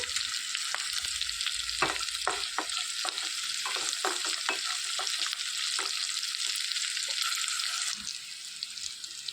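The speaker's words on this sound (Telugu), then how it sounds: "ఒక పది పచ్చిమిర్చి తీసుకున్నామండి ఇవి కొంచెం దోరగా వేయించేసుకోవాలి ఒక టేబుల్ స్పూన్ జీలకర్ర చేర్చుకొని వేయించుకోవాలి" Green chillies and cumin seeds frying in a pan for a coconut ivy gourd chutney, a continuous close sizzle broken by frequent spatula strokes, then easing off near the end, with no voices.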